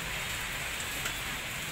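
Steady, dense rain hiss fills the clip, a continuous wash of falling water with no pauses and no voices.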